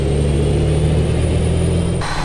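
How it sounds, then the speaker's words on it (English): Cummins N14 diesel truck engine, chipped to 610 horsepower, revving steadily and loudly in American Truck Simulator, a continuous deep drone that cuts off sharply at the end. "That sound that you're hearing there is from the last video, the Cummins N14 chipped 610 horsepower."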